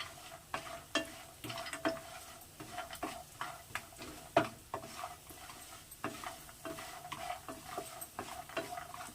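Cowpea fritters (alasanda vadiyalu) frying in oil until brown, a low steady sizzle broken by repeated sharp clicks and scrapes of stirring, close by with no talk.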